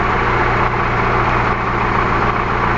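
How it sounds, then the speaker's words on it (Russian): Car engine idling steadily after a remote start from a Cyclon 1000RSv3 alarm system, a constant close, loud low hum with even rhythmic pulsing and no voices. "двигатель работает."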